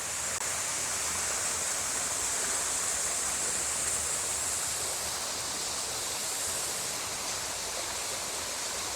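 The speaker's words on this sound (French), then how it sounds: "il y a deux jolies petites cascades ici sur la monture" Two small waterfalls trickle with little water in midsummer, producing a steady, even rushing hiss that stays constant throughout with no voices.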